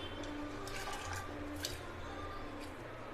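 Water running into a pot of soaked urad dal with a little salt, a steady close splashing and trickling pour with no talk.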